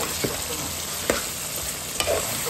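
Meat and liver sizzle steadily in a pan, a constant frying hiss broken by a few sharp scrapes of stirring, close and unaccompanied by talk.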